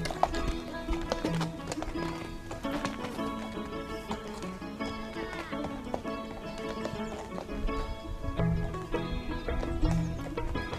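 Horse hooves clip-clop in a steady walking rhythm on a coastal track, close and continuous, with an occasional snort or whinny.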